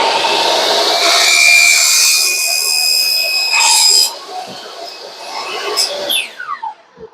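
A Makita LS1040 mitre saw cutting a piece: a loud, close motor whine and blade buzz through the cut, then a falling pitch as the blade spins down, with clicks and handling noise at the end.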